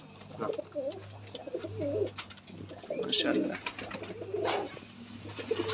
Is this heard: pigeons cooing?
yes